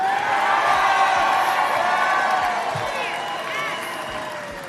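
A Chicago audience breaks into sustained applause and cheering, with dense clapping and scattered whoops that stay loud before easing off slightly toward the end.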